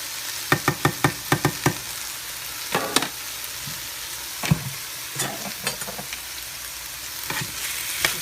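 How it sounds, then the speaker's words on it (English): Minced garlic hitting oil in a frying pan, giving a quiet background sizzle broken by a quick series of sharp utensil taps and scattered clinks from stirring. "adding some minced garlic in here"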